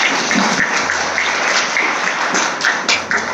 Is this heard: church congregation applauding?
yes